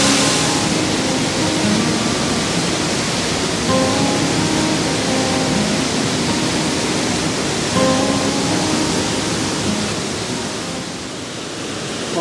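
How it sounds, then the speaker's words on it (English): A waterfall in the Arkansas Ozark National Forest roars up close, heard from behind the falls, a loud, steady wash of rushing water that fills the whole clip without letting up. "The falls is loud"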